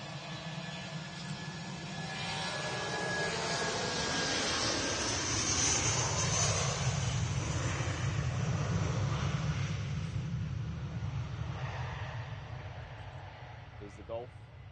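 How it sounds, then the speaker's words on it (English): A British Airways airliner passes at Manchester Airport bound for London Heathrow, its broad jet roar building over several seconds, holding strong in the middle, then fading as it moves away, with a brief faint voice near the end. "British Airways on the way back to London Heathrow."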